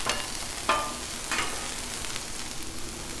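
Smash burger patty flipped on a Blackstone griddle, giving a steady close sizzle with a couple of sharp spatula scrapes near the start and a brief clatter midway, with no talking.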